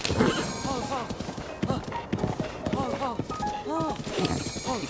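Horse hooves clip-clopping in the video game Zelda: Breath of the Wild, a steady trotting rhythm with whinny-like calls, heard under game music and effects.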